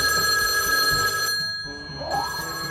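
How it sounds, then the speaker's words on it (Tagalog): An old-style telephone bell rings steadily and fairly loud indoors, a sustained electronic trill that drops out briefly before resuming. "Ayan na, tumutunog yung telepono."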